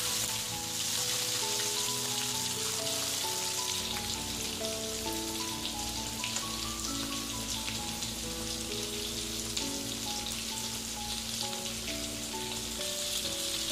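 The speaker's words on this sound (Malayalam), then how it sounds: "മുപ്പത് മിനിറ്റ് കഴിഞ്ഞതിന് ശേഷം ഞാനിതിവിടെ ഫ്രൈ ചെയ്യാനായിട്ട് ഇടുകയാണ് ഞാൻ ആദ്യം ചെസ്റ്റ് പീസുകളാണ് ഇട്ട് കൊടുക്കുന്നത്" Quail chest pieces frying in hot oil, a dense, even hiss and bubbling crackle that runs steadily throughout, with a faint melodic background underneath and no voices.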